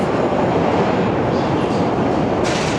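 A CTA L train in Chicago rumbles along loudly at close range, a dense continuous roar of wheels and carriage noise with a brief rise in hiss near the end.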